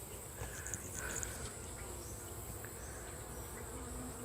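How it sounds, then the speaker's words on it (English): Handful of bees buzzing steadily in a queenless hive with good comb, a constant close insect drone with faint higher whines, no talking. "there's a handful of bees in there"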